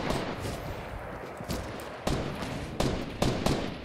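Gunfire in the video game Fortnite, sounding as several separate sharp shots spread over a few seconds, some single and some in quick pairs, at a moderate distance over a low game-ambience background.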